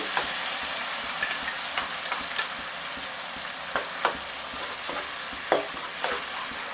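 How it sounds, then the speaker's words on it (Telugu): Onion paste with green chilies frying in a pan for a spicy tuna curry gives a soft, steady sizzle, broken by scattered light clicks and scrapes as it is stirred. "ఆనియన్ పేస్ట్, పచ్చివాసన పోయేంత వరకు ఫ్రై చేసుకున్నాం"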